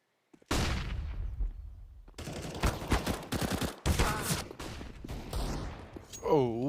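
A sniper rifle shot from the AWP in Counter-Strike on the Inferno map during a competitive esports match, with sharp gunfire bursts mixed under loud, continuous caster commentary.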